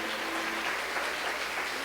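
A church congregation claps together in praise during a worship service, a brief dense wash of hands that is loud and continuous with no clear rhythm, heard alone without voices.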